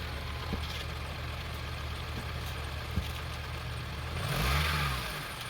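A car engine idles steadily while its oxygen sensor is being tested, then revs up briefly near the end as the gas pedal is pressed before settling back down, the rise fairly modest and mid-loud.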